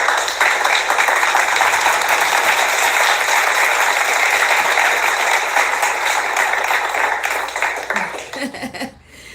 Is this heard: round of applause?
yes